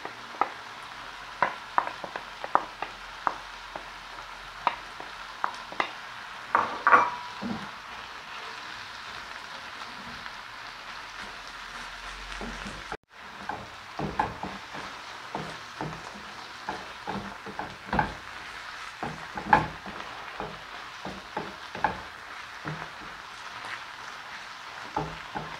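Onions, peppers and mushrooms frying in a pan, giving a soft, steady sizzle broken by scattered crackles and a few stirring scrapes, fairly quiet and with no talk.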